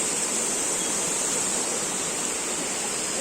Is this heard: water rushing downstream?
yes